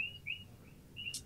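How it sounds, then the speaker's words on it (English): Birds chirp faintly in the distant outdoor background, giving a few short, high tweets over a soft low hum. "Got the birds in the background."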